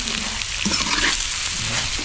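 Ground chickpeas stir-roasting in a pan for chana nimona, giving a steady close sizzle with scraping stirs throughout and no voices.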